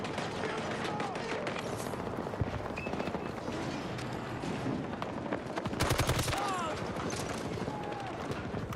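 Bursts of rapid automatic gunfire from the shooter Battlefield 2042 crackle almost without pause, with a heavier, louder volley near the end, while someone talks over the shooting.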